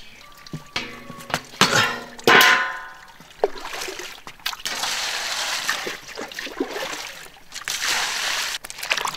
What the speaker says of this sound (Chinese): 清洗哈，顺便挑选下哈，把那个骨头渣渣就不要了。